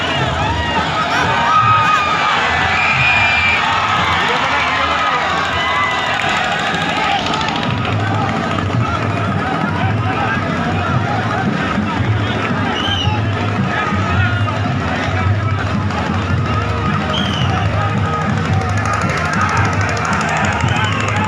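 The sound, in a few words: crowd shouting and screaming at a rally clash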